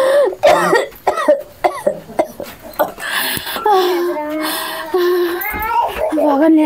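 An old man coughs in a series of harsh, separate bursts up close, followed by strained vocal sounds and voices talking.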